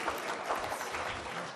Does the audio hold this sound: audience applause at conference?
yes